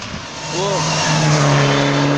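A Suzuki rally car at a rural French rally passes loudly and close, its engine note rising and sweeping with a clear pitch drop as it goes by, steady roar filling the clip, spectators' voices around.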